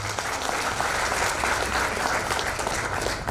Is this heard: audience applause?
yes